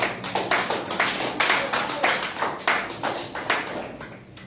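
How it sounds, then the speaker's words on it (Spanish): A church congregation claps hands as an offering of praise during a Sunday service, the clapping rhythmic and steady at a regular pulse, fairly close, filling the whole moment without speech. "Dale una ofrenda de palmas al Señor"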